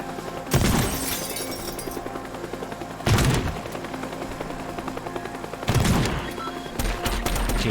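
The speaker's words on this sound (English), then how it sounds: "he's firing rockets now" Helicopter in the Teardown video game firing rockets and guns: three loud, sharp blasts with crashing debris at roughly even intervals, over a steady rattling din.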